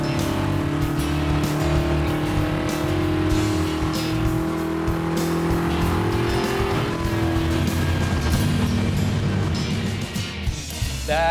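Race car engine pulled hard on a dyno in a garage, a loud sustained roar with steady harmonic drone near the microphone, running throughout before easing slightly at the end.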